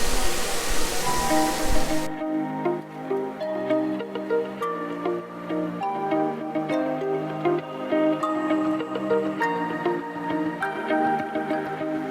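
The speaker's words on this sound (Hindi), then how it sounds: "पानी पानी।" Water rushes loudly at Kamakhya Temple in Guwahati, Assam, for about two seconds before cutting off, giving way to steady sustained musical tones.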